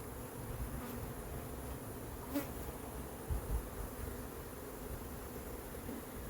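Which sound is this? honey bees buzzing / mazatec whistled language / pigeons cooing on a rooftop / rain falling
honey bees buzzing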